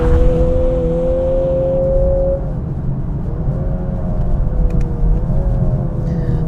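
A Lexus LC 500h's 3.5 litre V6 engine revs inside the car, with a loud, sustained engine drone whose pitch holds and then dips and rises again over several seconds, with no talking.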